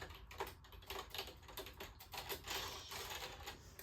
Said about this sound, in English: It is a Bluetooth typewriter keyboard.